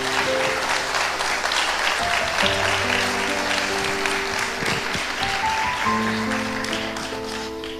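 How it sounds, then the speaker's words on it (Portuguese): A church congregation at a Brazilian revival service applauds steadily and loudly as a dense, continuous wash of clapping, with sustained keyboard or organ tones playing underneath. "Pode se assentar aplaudindo a Jesus bem forte"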